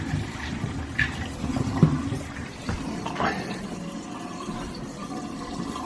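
Water drains after a plumbing repair, a continuous nearby gurgling rush with small splashes and knocks, steady for several seconds with no talking.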